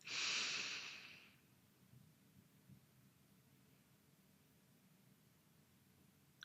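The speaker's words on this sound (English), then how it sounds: "Let's take some deep breaths." A single deep, airy breath during a guided meditation, close and fairly loud, fades within about a second and a half into quiet room hiss.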